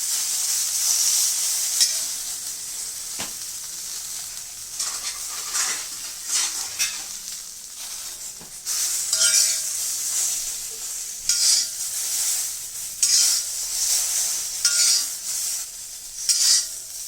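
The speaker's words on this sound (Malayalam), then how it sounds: "വെണ്ടയ്ക്കൊന്ന് നല്ലപോലെ വഴണ്ട് വന്നിട്ടുണ്ട്" Okra sautés in an iron pan, oil sizzling softly while a spatula scrapes and stirs in repeated bursts, with metallic scraping strokes rising and falling over a steady frying hiss.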